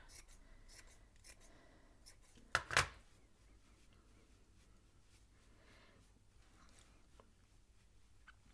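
Scissors snip around the edges of a wool pom-pom, giving one short close crisp cutting burst amid faint rustling, fairly quiet overall, with no talk.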